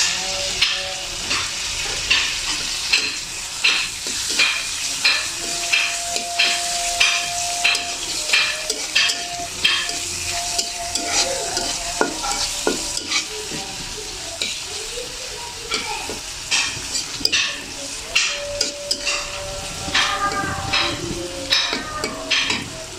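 Pangas fish fries in a pan of oil for a potato-and-fish bhuna, with a continuous sizzle and regular sharp taps and scrapes of the spatula stirring against the pan, near and steady throughout.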